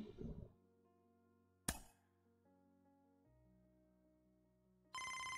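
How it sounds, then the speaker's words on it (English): Electronic phone ringtone in the MLB The Show 24 Road to the Show mode, sustained synth tones stepping through a melody after a sharp click, then a bright loud ring tone bursting in at the end, no voices. "we're getting a phone call"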